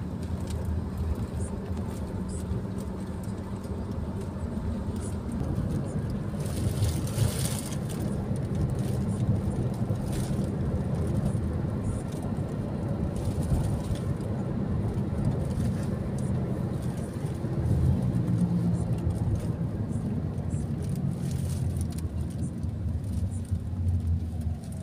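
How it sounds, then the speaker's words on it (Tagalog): Road traffic moves through Busan, with a continuous wash of car engines and tyre noise close by, a few louder vehicles passing, and faint voices under the steady drone. "Traffic na naman."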